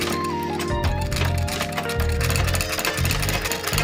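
Leather for a bag is stitched by machine, a loud, rapid, rattling mechanical hammering that runs continuously and close, with shifting pitch as the stitching speed changes.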